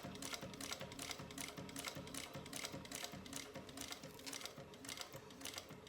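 A sewing machine stitches a drop-in lining at stitch length 5 without back stitching, producing a fast, steady, even run of mechanical clatter, close and continuous with no talking.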